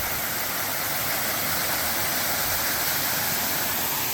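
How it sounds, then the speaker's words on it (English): Waterfall in Arkansas: a steady, dense roar of falling water, loud and continuous without pause, filling the scene with no voices heard. "look at this waterfall"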